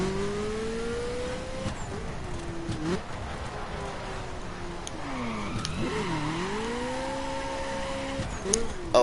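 A Ferrari F40 LM engine in the video game The Crew climbs and drops through repeated revving accelerations and gear shifts, loud and close, with tire and road noise between pulls.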